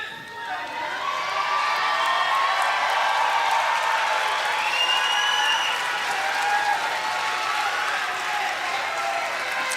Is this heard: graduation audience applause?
yes